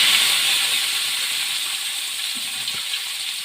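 Onions hitting a hot pan and frying, a loud steady sizzling hiss that fills the clip and fades slightly toward the end.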